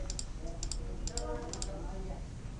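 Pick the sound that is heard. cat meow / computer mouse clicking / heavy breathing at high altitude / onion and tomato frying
computer mouse clicking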